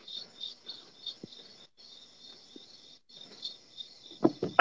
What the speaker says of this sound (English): the sounds of the crickets while he's explaining this